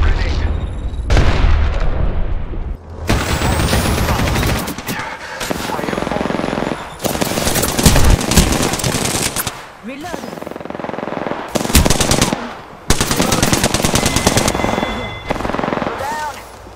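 Machine gun fire in a PC shooter game comes in loud, repeated bursts of rapid shots separated by short pauses and booms, with a player talking at times between and over the firing.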